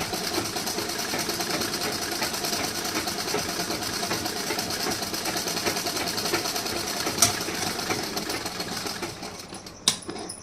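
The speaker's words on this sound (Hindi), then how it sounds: "अब यहाँ पे मैं एक स्टिचिंग और कर रही हूँ, सीधा कर दे रही हूँ इसे।" A sewing machine stitches blouse fabric in one steady, quiet run, its fast needle chatter continuing evenly with a couple of small clicks near the end.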